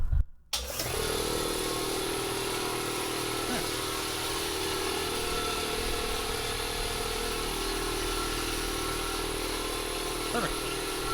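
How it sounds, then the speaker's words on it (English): A small shop air compressor starts up with a short thump, then settles into a steady, loud mechanical drone that runs on without change, with no talk over it. "these are the compressors that run the shop"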